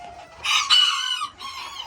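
An Old English Game Bantam rooster crows once, loud and near, a drawn-out call that rises, breaks briefly and trails off.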